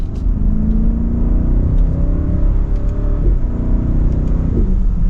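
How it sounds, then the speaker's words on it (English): A 2024 BMW X7 M60i in sport mode revs hard with paddle shifting, its engine climbing in a steady roar with a few faint exhaust pops near the end, close and continuous with no talk. "There's a few pops in that exhaust."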